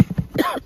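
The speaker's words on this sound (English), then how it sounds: "COVID cough." A single short, close cough from a beekeeper working hives, abrupt and fairly loud, with nothing else around it.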